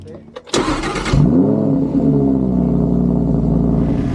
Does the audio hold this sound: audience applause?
no